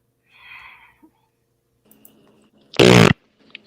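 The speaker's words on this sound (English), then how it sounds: "I farted." A single loud, brief fart bursts out near the close, following a soft breathy rustle and faint small noises in a quiet room.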